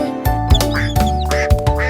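Rapid, loud quacks from ducks repeat in a steady rhythm over a busy musical backing in a children's song.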